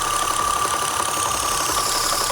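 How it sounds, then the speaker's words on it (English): A Saab/Vauxhall/Opel 2.8 engine runs steadily at idle, with a constant hiss of PCV vacuum sucking through a silicone line over an even mechanical hum and a faint high whine. "I can hear a ton of sucking coming from the back, but it turns out that it was actually just the noise coming through the silicone line"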